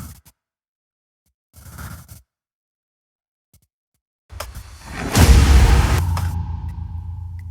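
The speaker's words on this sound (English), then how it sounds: "Impacts." Impact effects from the intro of an electronic music track: two short muffled hits, then a heavy booming impact near the five-second mark that swells into a loud, noisy sustained rumble with scraping texture, no voices present.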